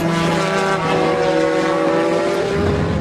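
GT race cars roar down the main straight at Paul Ricard in a 2009 FIA GT race, engines loud and continuous with a steady high whine.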